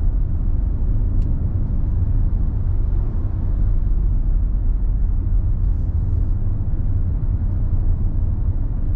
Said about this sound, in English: as you can hear, the road noise, we're doing nearly 70.